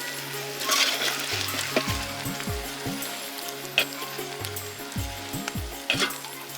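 Cumin seeds hit hot oil and sizzle steadily, with a few sharp clinks of a utensil against the pan while cooking a fish and arum root dish; no talking.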